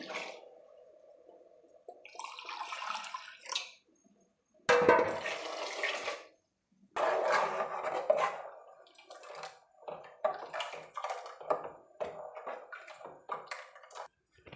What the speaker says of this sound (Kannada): ಅದೇ ಜಾರ್ಗೆ ನೀರು ಹಾಕಿ ಹಾಕ್ತಾಯಿದ್ದೀನಿ